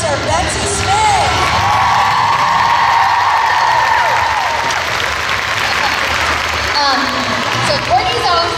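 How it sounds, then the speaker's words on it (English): A crowd at a cheer gym's 30-year celebration applauds and cheers loudly for Betsy Smith, with sustained clapping, whoops and shouts, and voices talking through the noise. "So big round of applause for Betsy Smith"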